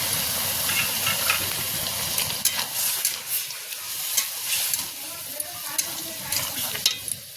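Continuous loud sizzling in a hot kadai as boiled winter vegetables are stirred into frying spices with fried lentil dumplings, broken by irregular scraping stirs; no talking.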